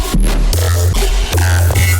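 A house drum loop slowed to 75 BPM plays loud and close, with deep booming kicks and snappy hits landing in a slow, heavy groove.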